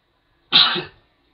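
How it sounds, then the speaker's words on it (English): One quick, forceful sneeze, close up, rising abruptly out of silence and fading within half a second. "hold on for a minute, I gotta sneeze"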